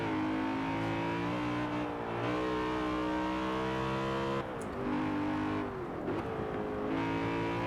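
Interior engine note of a BMW M3 GTR race car in Forza Horizon 4, a loud steady drone with strong harmonics that dips briefly as the driver shifts, then builds again, with no talking.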